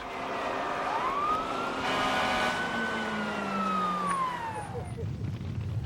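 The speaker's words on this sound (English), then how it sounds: "when the alarm sounds for an oil tank fire, they quickly respond" A fire alarm siren for an oil tank fire wails, rising and slowly falling in one long sweep over a steady rumble of engine noise, moderately distant.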